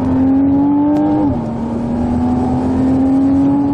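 A 2016 Porsche Cayman, naturally aspirated with a PDK dual-clutch gearbox, holds a loud, close engine note that steps down slightly in pitch partway through, then settles into a steady, humming idle with no talk.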